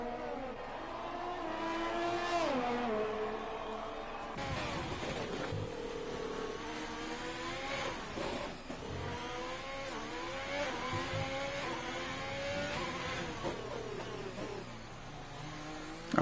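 An F1 race car engine screams through a lap of the Singapore Grand Prix circuit in an esports league game, rising and falling in pitch through repeated gear shifts, braking and acceleration, loud and continuous.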